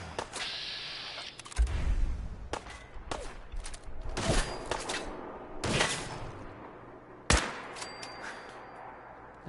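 Sniper rifle shots in Fallout 4, with several sharp, loud cracks spaced irregularly across the clip amid background game noise, and no talking.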